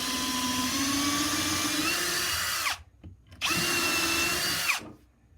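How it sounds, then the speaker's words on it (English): A power drill pre-drills through durable HDPE plastic in two long whining bursts, each winding down, with a short pause between them; close and fairly loud, no speech. "we're going to pre-drill through the hole that we already have started."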